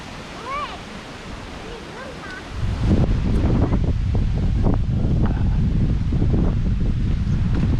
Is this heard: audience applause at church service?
no